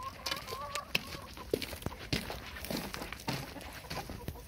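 Free-range backyard chickens gathered around outdoors, several birds making short, irregular clucks and murmurs at close range over a steady background.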